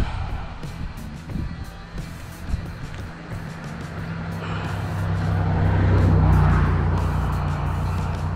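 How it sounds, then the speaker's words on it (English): A car drives past near a spot where people are magnet fishing, its low engine rumble swelling and peaking around the middle before easing off, against a steady outdoor background. "Another car coming."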